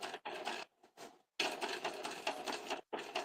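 A sewing machine top stitching a fabric pouch runs in short bursts of rapid mechanical chatter, close and steady, broken by a few brief pauses.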